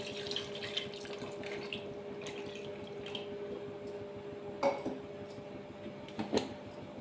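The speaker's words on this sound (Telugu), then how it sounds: "చికెన్కి సరిపడా వాటర్ పోసుకోవాలి." Water is poured over chicken in a cooking pot as a faint, soft trickle and splash, with a few light clinks of metal cookware near the end. No one speaks.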